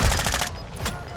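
Rapid automatic gunfire in the video game Call of Duty Warzone, a dense burst of close shots that thins into scattered rounds over about a second.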